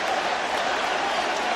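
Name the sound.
stadium crowd cheering Mike Piazza's home run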